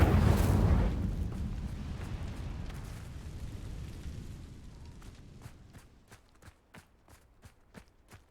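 The Incendio fire spell going off in Hogwarts Legacy: a sudden loud fiery burst that fades into a long roaring, crackling tail, followed by a series of distinct footsteps as it dies away.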